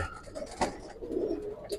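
A silver Giribaz pigeon coos in a short, soft burst of low throaty notes, close by and alone.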